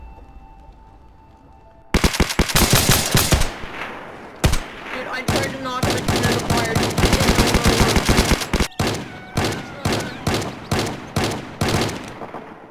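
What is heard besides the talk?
gunfire in a video game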